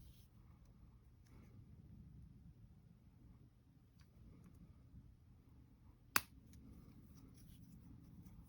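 A single sharp snip of plastic being cut, likely a part trimmed for a FANHOME Star Wars Millennium Falcon model kit, sounds once close up over a faint, steady room hum.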